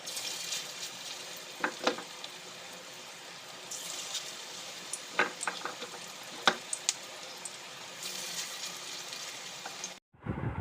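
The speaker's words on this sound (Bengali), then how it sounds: "চপগুলো উল্টে পাল্টে ভালো করে বেশ কিছুক্ষণ ধরে ভেজে নিচ্ছে।" Prawn chops frying in oil, being turned over and over, give a steady close sizzle with a few sharp crackles and pops scattered through, before cutting off abruptly at the end.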